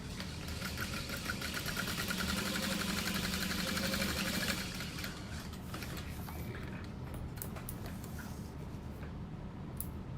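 A sewing machine runs steadily while stitching a seam on a Noel handbag, a continuous motor hum and rapid needle rhythm for about four seconds before dropping to a softer, quieter drone.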